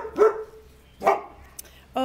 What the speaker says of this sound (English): Oh, you guys, stop barking.